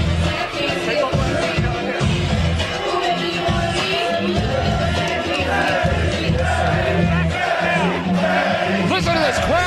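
A crowd at a fighting match roars and shouts loudly and continuously, with yells and babble, up close.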